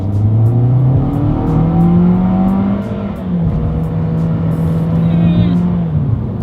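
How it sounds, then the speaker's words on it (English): A 2021 Toyota Corolla compact car accelerates hard along a straightaway, its engine note climbing steadily and dropping back at two gear changes before rising again, loud and close throughout. "let's do a quick little acceleration test here, and let's see how quickly we can get the new 2021 Corolla here up to speed"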